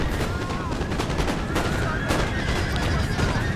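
Horses whinny in a Napoleon Total War multiplayer battle on Syrian Ridge, with a loud neigh standing out over dense, continuous musket and artillery fire that rattles without pause.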